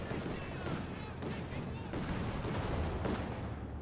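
A field gun firing in Company of Heroes 2 during a battle against a Luchs, buried in a dense, continuous roar of gunfire and explosions that carries on for the whole stretch.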